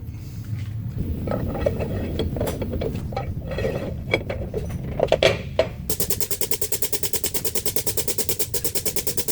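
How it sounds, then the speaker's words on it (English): Rear axles being slid back into a Dodge Ram 3500 differential and bolted down after a ring and pinion swap, with irregular metallic clanks and scrapes giving way to a steady rapid ratcheting rhythm, close and fairly loud. "we're going to slide these things back in, bolt them down"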